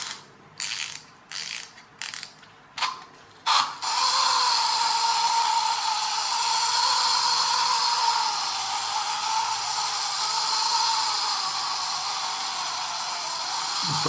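A clockwork wind-up ghost toy gives a few quick ratcheting clicks as it is wound, then its motor whirs continuously and evenly, close and fairly loud, with no talk.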